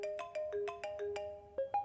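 A mobile phone ringtone plays a repeating melodic tune of bright, evenly spaced tones, close and clear, in a Hindi-dubbed action film scene, with no talking over it.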